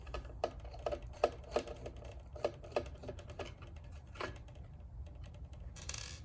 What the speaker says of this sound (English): Let's remove those 3 screws.